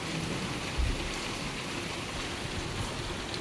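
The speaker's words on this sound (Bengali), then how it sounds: "আর তার আগে দেখুন ঝমঝমিয়ে বৃষ্টি পড়ছে" Heavy rain pouring down, a dense, steady hiss of rainfall close by with one brief low rumble early on, no voices.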